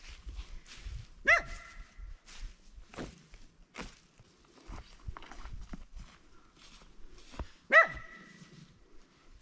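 Dogs on a rural berry farm bark a few times, two sharp clusters of barks several seconds apart standing out over quiet outdoor shuffling and footsteps, fairly close by.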